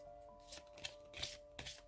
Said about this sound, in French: On commence avec l'oracle augure pour ouvrir le tirage.